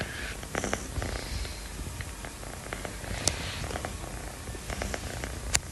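Soft, steady purring from a sleeping cat close by, with a couple of small clicks and shuffles over the low rumble.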